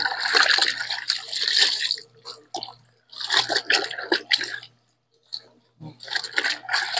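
Water splashes and sloshes in bursts as clothes are washed by hand in a tub at home, intermittent wet scrubbing and slapping with brief quiet pauses.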